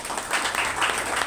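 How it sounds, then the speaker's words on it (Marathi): Audience applause at an Azad Samaj Party and Bhim Army community meeting in Mumbai: a dense, steady burst of many hands clapping, close and fairly loud, running through the whole short moment. "त्यांच्यासाठी एकदा जोरदार टाळ्या होऊन जाऊ द्या."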